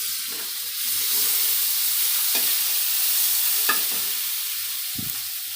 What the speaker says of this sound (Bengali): ভালো করে এটাকে একটু ভেজে নেব